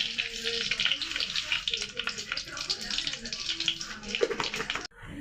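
Mustard seeds dropped into hot oil crackle and sputter in a dense, lively stream of pops for several seconds, with a faint voice underneath, ending in an abrupt cut.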